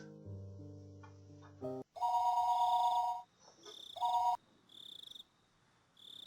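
A telephone rings in the Higurashi When They Cry Rei game, two bursts of electronic trilling ringing after a short musical phrase, with a quieter chirping tone between and after, close and clear.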